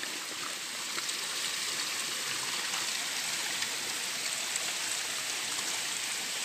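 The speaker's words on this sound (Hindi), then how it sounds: "तो इसको हम साफ़ करेंगे तो पानी चालू हो जाएगा ये, ये आप देख सकते हो" Steady water flow from a cleared village drinking-water source in the hills, a constant close rushing stream with faint trickling and no voices.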